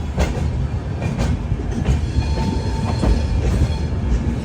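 Humsafar Express train pulling into Bikaner Junction: a steady, close rumble of coaches rolling over rails, with repeated wheel clacks and faint squeals throughout.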